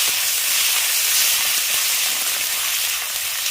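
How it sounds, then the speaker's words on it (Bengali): Ginger paste with turmeric powder frying in a pan for a veg dal, giving a steady, loud hiss that stays constant throughout, with no voices. "এবার আদা বাটাটাকে আগে একটু ভেজে নেব"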